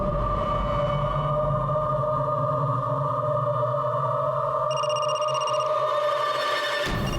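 A phone rings with a steady electronic tone that holds for several seconds, shifts pitch partway, then cuts off abruptly near the end.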